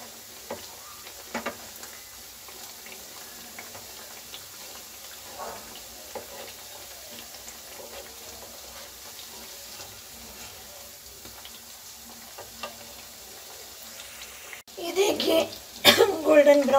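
Samosas deep-frying in hot oil and being turned, a steady low sizzle with scattered stirring clinks, then louder bubbling and clatter near the end as they are moved about.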